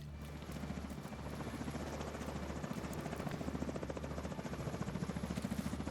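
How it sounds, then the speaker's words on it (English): A video game helicopter's rotor thumps in a rapid steady beat, growing slightly louder as it draws nearer. "Enemy helicopter approaching."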